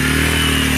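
A motorcycle engine runs steadily close by, a continuous mid-pitched drone with a faint rhythmic pulse throughout, loud and without voices.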